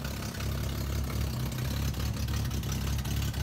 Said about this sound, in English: The car obviously has a bit of an exhaust leak.